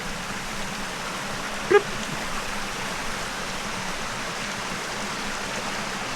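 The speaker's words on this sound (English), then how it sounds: "there's like a 5-foot waterfall right there" Steady rushing water of a five-foot waterfall in a creek gorge fills the air, a constant even splash and hiss with a single brief click partway through.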